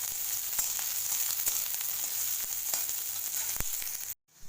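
Onion and rassa masala roasting in a hot pan give a steady close sizzle with scattered crackling pops, cutting off abruptly near the end after a brief silence.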